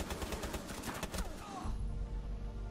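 Rainbow Six Siege gunfire crackles in a rapid burst of shots during the first half, then stops and gives way to quieter game noise.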